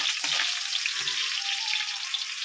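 Garlic fries in a pan for pancit, a loud continuous hiss of sizzling oil close up, with a couple of soft low knocks of stirring early on and no talk.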